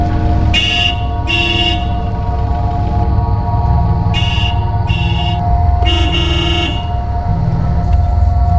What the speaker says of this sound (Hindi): कब से हॉर्न बजा रहा हूँ, जल्दी नहीं आ सकता क्या?